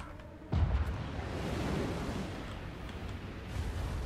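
Artillery volley striking a stone wall during a Total War: Warhammer 2 siege battle: a sudden heavy boom, then a long rumbling roar of impacts and debris that swells again near the end, distant and broad.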